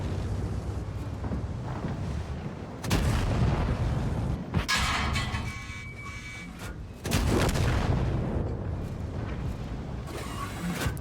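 Tank cannon shots in the World of Tanks video game, with the Char Futur 4 tank: several loud booming blasts with rumbling tails, spaced a few seconds apart over a mechanical hum.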